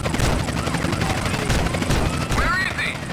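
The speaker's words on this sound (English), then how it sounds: "Oh my god, there's helicopters and everything" Helicopters and gunfire in GTA San Andreas: a loud, steady rotor chop pulses under rapid gunshot bursts, with voices talking over the chaos.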